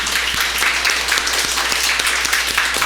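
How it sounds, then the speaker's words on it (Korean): A church congregation applauding steadily during a Sunday service, many hands clapping at once in a dense, loud wash of sound that carries on throughout. "우리 일어나실 때 한번 박수로 격려하도록 하겠습니다"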